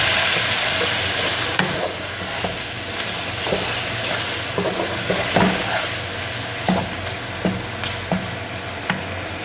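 Spices being stirred into beef qeema with peas cooking in a pan, a continuous close sizzle broken by repeated spoon scrapes and knocks every second or so, no voices.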